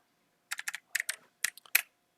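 Keys tapped on a computer keyboard while entering a bot command, several quick clustered keystrokes in short bursts, crisp and close in an otherwise quiet room.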